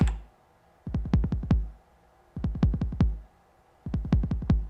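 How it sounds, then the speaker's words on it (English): Roland 909 drum machine bass drum pattern: three bursts of four to five quick accented kicks each, evenly spaced and loud, with short gaps between the groups and no voices. "Let's start with a bass drum again. And we're going to put the bass drum on step 1,"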